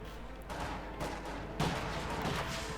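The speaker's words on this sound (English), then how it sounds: "Bit of shooting there" Gunfire and strafing from a Company of Heroes 2 battle, including an aircraft firing twin 37mm guns at tanks, heard as a few sharp bursts of shots over a rumbling battlefield background, moderately loud with no voices.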